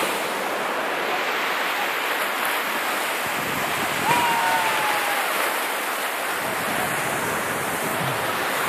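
Sea surf at Hafa beach in Oman rolls as a steady, fairly loud broadband wash with wind noise, and a brief faint tone rises midway through.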